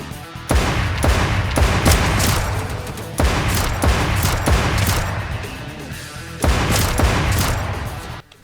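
An FN FAL rifle fires at zombies in the Roblox game, with loud repeated bursts of gunfire broken by short pauses and no voices over it.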